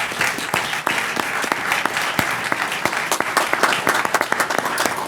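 Audience applause at a council meeting, steady and moderately close, with distinct sharp individual claps standing out over a dense patter throughout, no talking.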